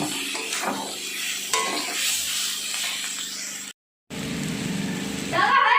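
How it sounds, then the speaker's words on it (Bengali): A spoon stirs a chhena curry mixture in a hot pan after salt goes in, with steady sizzling and scraping, a brief silent gap, then louder frying. "আন্দাজ মতো লবণটাও দিয়ে দিচ্ছি দিয়ে ভালো করে একটু মেরে নিচ্ছি"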